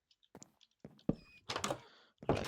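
A door placed in Minecraft while building a starter house, heard as a few short, dull wooden thunks spaced irregularly against near silence.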